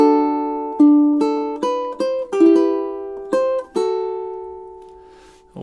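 Fingerstyle ukulele melody, measures 11 and 12 of a relaxing song, with about nine clear plucked notes ringing into each other at a gentle, even pace, the last note left to fade, played alone and close.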